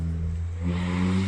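Tuned car revving its engine nearby, a steady droning hum that rises into a higher rev as the clip goes on, heard alone without talk.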